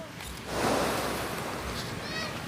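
Surf washes in with a broad rush that swells and lingers, mixed with wind buffeting the microphone.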